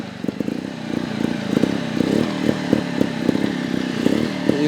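A GasGas TXT 300 trials motorcycle on a backyard obstacle course putters nearby at low revs, its two-stroke engine firing in a rapid, uneven chugging rhythm with slight surges as the throttle blips.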